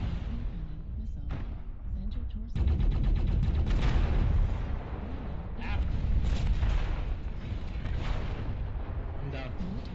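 Artillery strike in a video game, a dense rumbling barrage of booms and blasts rolling on in waves, loud and sustained, with voices talking over it.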